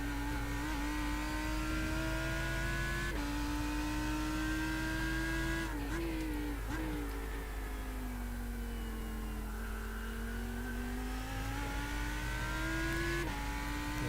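Lamborghini Huracan GT3 EVO race car engine in the iRacing simulator, a loud continuous drone rising through the gears with repeated upshifts and brief lifts, heard up close without talk.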